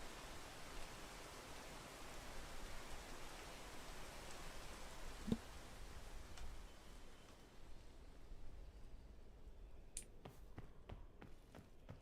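Steady rain hiss from the video game Peak fills most of the span as a continuous wash, then thins out toward the end where a few sharp taps and clicks stand out.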